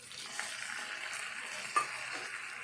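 Onion, green chili and tomato pieces fry quietly in a pan for an egg curry, with a soft continuous sizzle and an occasional clink of stirring.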